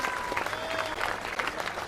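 Surprise crowd applause in a Hallmark Christmas movie set at Graceland: dense, steady clapping from a sizable audience fills the whole stretch at moderate loudness, with faint voices mixed in underneath.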